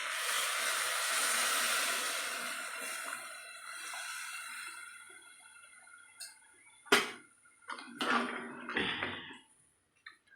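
Water is poured into a pressure cooker for veg pulao, a hissing splash that tapers off, followed by a few sharp clinks and knocks of kitchen utensils.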